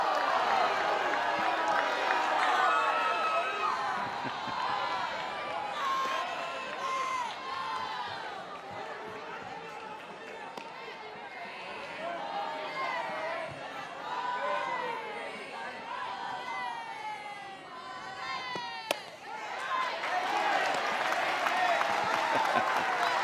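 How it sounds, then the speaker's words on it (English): Crowd noise fills a college baseball stadium at a Florida State versus Auburn game, a dense murmur of chatter and shouts rising after a pitch, while announcers talk over it. "You knew the crowd would react to that."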